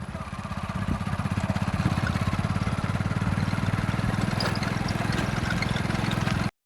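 A motorbike on the road home rumbles with a steady, close engine drone that holds an even, throbbing pulse for several seconds and then cuts off abruptly.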